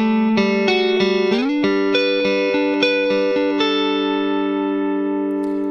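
An electric guitar runs through a Walrus Audio Deep Six compressor pedal, Anglerfish Edition, heavily squashed, with a series of plucked notes and chords, even in level, and the last chord sustains and fades out.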